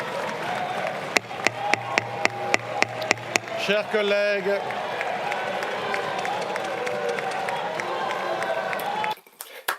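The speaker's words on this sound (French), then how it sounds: "ça a été sur les applaudissements, sous les applaudissements de la France insoumise" In the French National Assembly, members give scattered, rhythmic clapping that swells into fuller applause and crowd noise, then cuts off near the end, with a speaker's voice briefly heard.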